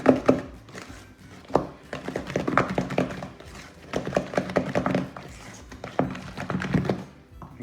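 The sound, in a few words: creaming butter and sugar together in a bowl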